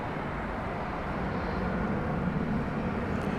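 An airliner takes off at night from Dallas-Fort Worth Airport, heard from a nearby viewing plaza as a steady, broad jet roar that swells slightly, with no talk over it.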